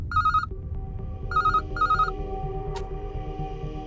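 A telephone rings in a room, with a short electronic ring burst followed by two more paired bursts, clear and moderately loud over a low background hum.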